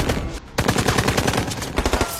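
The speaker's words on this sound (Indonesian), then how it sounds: "Kontak senjata kembali terjadi." Film firefight with rapid bursts of automatic gunfire, dense rattling volleys that briefly drop out, then resume loud and close in quick repeated cracks.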